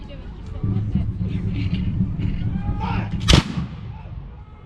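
A single loud flintlock musket shot cracks out at a battle reenactment, a sharp broadband blast standing out above a steady rumble and distant crowd murmur.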